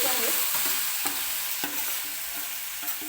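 A spiced eggplant mixture goes into hot oil and fries, giving a constant, loud hiss with small spatters and a few scraping knocks from stirring, close up and free of speech.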